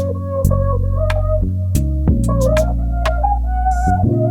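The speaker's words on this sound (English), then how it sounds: "I've kind of loaded in this mute bass, which fits pretty well" A Trilian Real Mute Bass preset plays a laid-back R&B bass line in a cozy beat, its short muted low notes steady and fairly loud, with a few higher fills and no voices.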